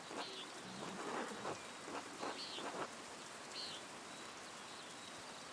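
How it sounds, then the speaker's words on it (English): Steady rain falls through a stormy morning scene in the video game Pentiment, a soft continuous wash heard alone with no talking over it. "The rain is turning everything to mud."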